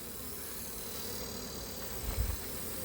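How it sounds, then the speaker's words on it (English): Honey bees buzz steadily around hive frames as the honeycomb is separated during a harvest, a continuous close insect drone with a brief low thump near the end. "we're going to try and get all the bees off"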